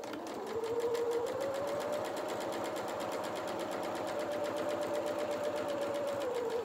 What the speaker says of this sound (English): we're just going to pop this in the machine and then just stitch very close to that edge